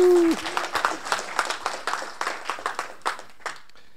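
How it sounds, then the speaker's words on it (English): A small audience at a GNU Radio meetup talk in San Diego claps to welcome a speaker, a loose, fairly sparse patter of distinct hand claps that thins out and fades over about four seconds after a brief voice at the start. "Round of applause for Nate."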